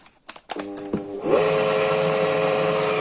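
A two-stroke IZh Planeta motorcycle engine with a CDI ignition kit, under diagnosis, catches after a few cranking attempts and settles into a loud, steady idle that runs to the end.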